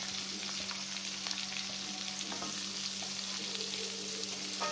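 Sliced onion frying in margarine or butter with cooking oil and stirred, a continuous even sizzle over a low steady hum, no voices.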